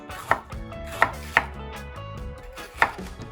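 Onion and pepper being chopped with a knife on a board for vegan coleslaw: four sharp, separate knife strikes at uneven intervals, close and clear, with no talking.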